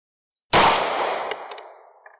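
A single loud gunshot from a .40 Smith & Wesson strikes a refrigerator, a sharp crack that rings and decays metallically, followed by faint clinks.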